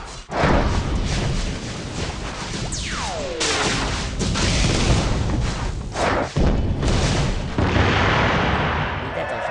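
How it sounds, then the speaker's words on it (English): Rapid booms, crashes and thuds fire through the endgame of an Auto Chess Mobile match, loud and dense, with a falling whistle-like tone partway through and someone talking over it. "See all those explosions?"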